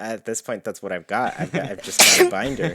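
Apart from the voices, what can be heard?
sneeze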